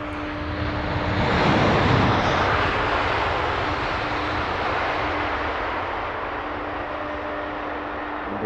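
A Virgin Airbus A330neo landing at Heathrow gives a broad, steady jet roar that swells, peaks, then holds as a sustained loud rumble.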